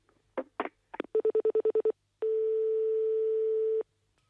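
A telephone is dialed: a few short rotary-like clicks, then a quick run of eight evenly spaced tone beeps, followed by a single long steady ring or dial tone lasting over a second, close and clear with no talk.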